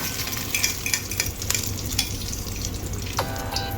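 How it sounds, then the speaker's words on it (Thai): Vegetables dropped into hot oil for an omelette, a busy close sizzle and crackle with scattered utensil clinks, and a brief high metallic scrape near the end. "ร้อนเสร็จก็ใส่ผักลงไปเลยค่ะ"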